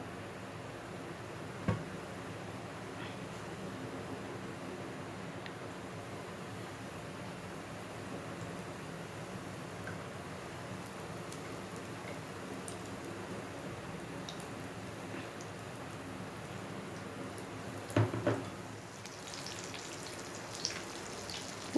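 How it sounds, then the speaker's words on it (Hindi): Green chilies deep frying in hot oil in a pan make a steady, soft crackling sizzle that runs throughout, with a few louder pops near the end. "अब मैं इन मिर्चों को इसमें डीप फ्राई करूँगी"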